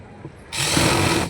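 A sewing machine stitches along the belt of a farshi salwar in one short, close burst of mechanical whirring lasting under a second after a brief quiet start.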